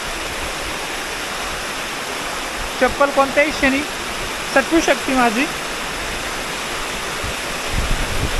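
A strongly flowing mountain stream at Naneghat rushes loudly and continuously, a dense roar of water close by, while someone speaks briefly over it midway.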